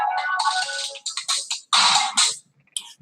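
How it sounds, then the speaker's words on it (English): A phone ringtone sounds for an incoming call, a loud bright repeating tone in short bursts with brief gaps, heard close and alone with no talking. "That was a phone call from my niece."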